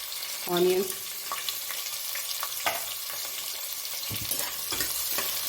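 Sliced onions frying for a vegetable biryani give a steady close sizzle throughout, with a brief utensil clatter and stirring scrapes toward the end.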